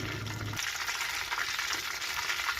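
Panch phoron spices crackle and fry in hot mustard oil in a kadai, a soft, steady sizzle close by after a short low hum at the start.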